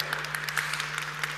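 Economic forum audience applauding a remote speaker, a short even burst of clapping over a steady low electrical hum.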